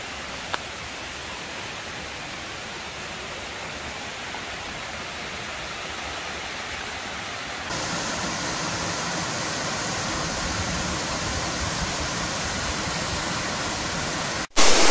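Steady broadband roar of El Limón waterfall in the Dominican Republic, heard continuously from a distance with no voices, growing slightly louder midway and ending in a brief bump.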